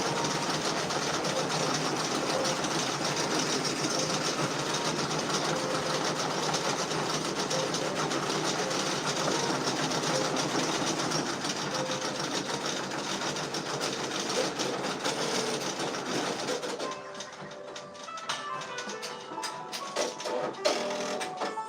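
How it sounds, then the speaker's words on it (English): A Persona embroidery machine stitching a patch runs with a loud, continuous, rapid mechanical whir and needle chatter, close up, shifting to a choppier rhythm near the end. "And here's that second Persona working on the baddie patch."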